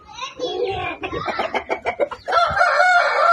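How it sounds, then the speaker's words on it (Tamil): A Peruvadai rooster crows loudly up close, its strained call overlapping with nearby voices talking. "பெருவடை சேவல் பாருங்களேன் நல்லா கூவும்"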